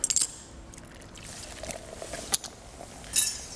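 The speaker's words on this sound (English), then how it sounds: "I'm going to add the beer" Beer poured into a bowl of batter mix for fish and chips, a soft, fairly quiet liquid pour with a few small clinks, heard alone in a kitchen.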